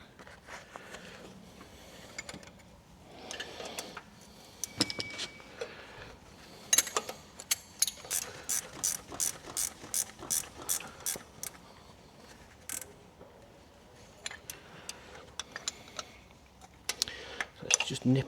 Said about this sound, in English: It's always important to tighten your nuts.